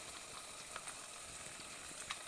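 Butter, onions and minced garlic sizzling softly in a pan, a steady faint crackle with scattered small pops throughout.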